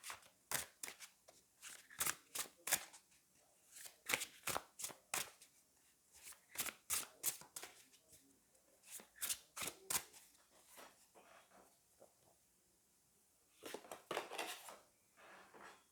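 Tarot cards are shuffled and drawn close by: quick flurries of papery riffles and taps come in uneven clusters with short pauses, then a final brisk burst, with no speech.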